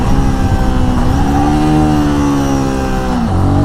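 A Royal Enfield Guerrilla 450 motorcycle engine blips and drops through gears in an aggressive downshift. The loud, close exhaust note swells, falls and rises again with each shift.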